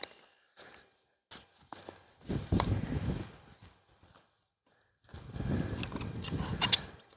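Steel wire being wound tight around a rotating eye bolt on a new vineyard trellis gives two bursts of mechanical ratcheting and grinding, with a few clicks and taps between them.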